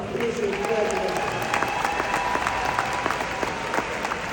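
Graduation ceremony audience at a university giving a round of applause, a sustained bright crackle of many hands clapping at steady volume, with a few faint voices mixed in.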